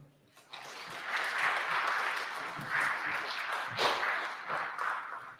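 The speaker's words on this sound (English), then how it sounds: "So please, round of applause for Patricio" Audience applause at a talk, a dense patter of clapping that swells after a brief pause and holds steady at moderate loudness, slightly distant.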